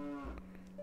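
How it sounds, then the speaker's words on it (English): A mountain cow in Ocarina of Time gives one short, faint moo, with a brief tone sounding near the end. "Just those usual everyday mountain cows."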